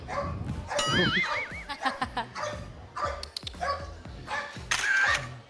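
A dog barking in a residential building during a house visit, several sharp barks and yips close by, mixed with voices and bustle.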